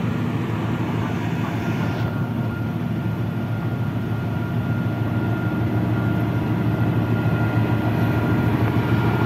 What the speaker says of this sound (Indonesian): Kita lihat penyambungan lokomotif ke rangkaian kereta api Ranggajati ya